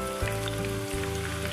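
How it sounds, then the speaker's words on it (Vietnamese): Sliced bitter melon drops into hot oil and sizzles at once, a brief, soft, crackling fry in a vegetarian kitchen. "Cho nên khi mình bỏ khổ qua vào là nó bắt đầu là sôi liền."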